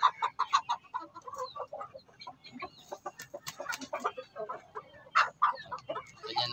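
Backyard hens cluck and chatter close by in a busy, irregular stream of short calls, with a faint voice in the background.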